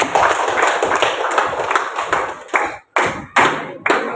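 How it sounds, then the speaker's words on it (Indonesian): Children in a classroom clap their hands in a quick, busy patter that breaks into a few short separate bursts with brief pauses near the end. "Tepuk tangan buat kalian."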